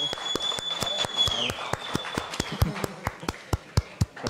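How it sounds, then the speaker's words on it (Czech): Audience at a live Czech show applauding, a dense wash of clapping that thins into separate, sharp claps near the end, with a faint voice briefly over it. "Ještě tleskáme, aha."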